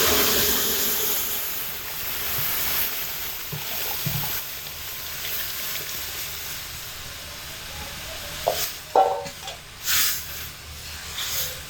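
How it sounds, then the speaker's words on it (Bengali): Boiled lentils poured into a pan of green mango fried until red, for a sour dal, with a steady steamy hiss and sizzle throughout and a few louder splashy bursts near the end. "এবার এর মধ্যে সিদ্ধ করে রাখা ডাল ঢেলে দেব।"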